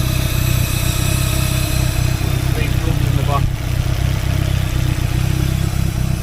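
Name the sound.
Cosworth engine spluttering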